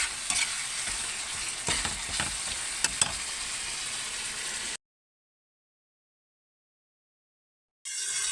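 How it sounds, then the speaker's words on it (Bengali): Fish kalia masala frying in oil as it is stirred, giving a dense, bright sizzle with spatula scrapes near the start. The sound cuts to full silence partway through and then comes back briefly at the end. "এমনি করে নাড়িয়ে নাড়িয়ে ভালো করে ভেজে নেবে"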